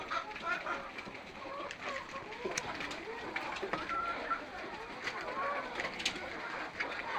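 Chickens cluck and murmur nearby in a steady, busy stream of soft calls, with a voice faintly audible in the background.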